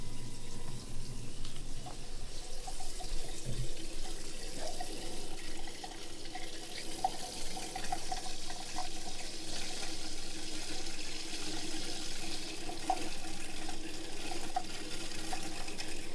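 Hot water runs steadily from the faucet of a Basecamp 20 RV after spring commissioning, with the Suburban water heater fired, a continuous hissing flow that stays even and moderately loud for the whole stretch with no talking.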